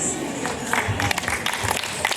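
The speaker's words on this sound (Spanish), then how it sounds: "Venga, los fuertes aplausos para los señores padres de la novia, claro que sí." Wedding guests clap for the bride's parents, a dense, steady patter of applause from a crowd with scattered cheers, close and continuous throughout.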